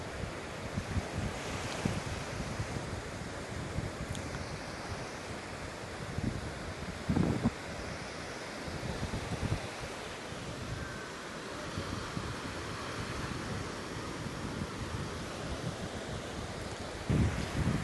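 Sea surf washes steadily onto Tel Aviv beach, with a continuous rolling hiss of breaking waves and gusty wind buffeting the microphone throughout. No voices are heard.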